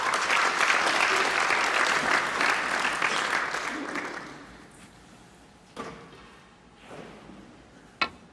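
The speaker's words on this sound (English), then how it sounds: "The applause was for John Higgins, who has finally clinched that opener next door." Snooker crowd applauding at a neighbouring table for John Higgins clinching the opening frame, heard at a distance; the clapping fades after about four seconds, leaving quiet with a few faint stray sounds and one sharp tap near the end.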